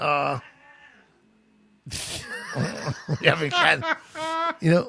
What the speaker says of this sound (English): We're having cat issues here.